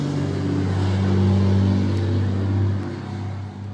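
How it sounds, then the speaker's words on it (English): A loud truck passes outside a house under renovation, a deep rumbling engine drone that swells, holds steady and then eases away over a few seconds, with no voices. "Was a loud truck."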